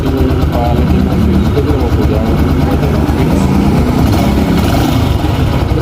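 Honda 125 motorcycle engine running at a steady, loud, throaty idle, with a person talking over it throughout and no clear rise in revs.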